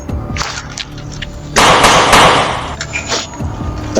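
Several sharp gunshots ring out outdoors, loud broadband bursts close together in the middle of the clip, with quieter sharp cracks before and after.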